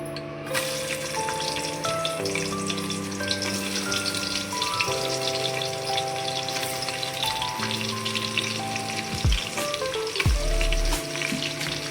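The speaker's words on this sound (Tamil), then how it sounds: "வெங்காயம் கொஞ்சம் நல்லா வதங்கட்டும்" Onions sauté in hot oil with spices, a dense, loud, continuous frying sizzle heard up close, with a faint steady hum running underneath.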